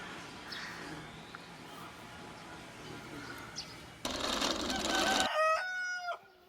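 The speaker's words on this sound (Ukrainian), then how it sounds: "він півник нам допомагає, він вже кукурікає вовсю" In a Ukrainian village, after several seconds of low background noise and a burst of rustling, a young rooster lets out a single loud, drawn-out crow close by.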